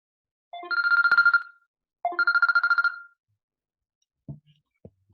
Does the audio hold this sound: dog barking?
no